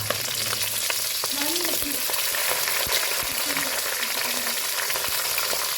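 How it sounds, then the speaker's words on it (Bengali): Sliced onions, two bay leaves and whole garam masala frying in hot oil for chilli chicken, a loud, steady crackling sizzle close by with occasional stirring scrapes and no speech. "তারপর সেই তেলের মধ্যে দিয়েছিলাম 2টো তেজপাতা, গোটা গরম মশলা, আর আগে থেকে কেটে রাখা পেঁয়াজ।"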